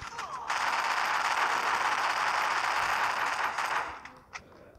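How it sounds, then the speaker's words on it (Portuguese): Gunfire bursts in a battle royale video game, one sustained loud volley of rapid shots that cuts off near the end, followed by a couple of faint clicks. "Tão dando bala, tão dando bala."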